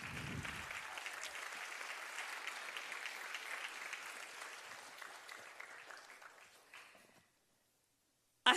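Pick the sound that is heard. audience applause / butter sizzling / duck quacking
audience applause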